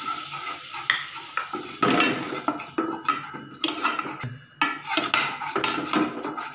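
Gram flour goes into hot ghee in a pan and is stirred, producing a sizzle with repeated scraping and clinking of a utensil against the pan in uneven bursts, close up and with no talking.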